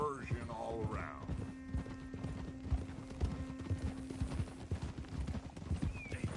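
Horse hooves clip-clop at a steady walking rhythm in the Red Dead Redemption 2 video game, close and clear, with a brief whinny and voices speaking over the footfalls.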